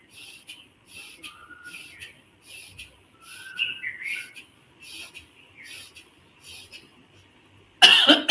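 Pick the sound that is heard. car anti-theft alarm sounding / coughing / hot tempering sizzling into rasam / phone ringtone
coughing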